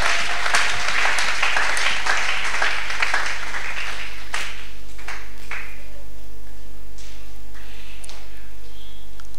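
A church congregation bursts into applause, dense clapping strongest in the first few seconds and then thinning into scattered claps that fade away, heard alone against a steady low hum.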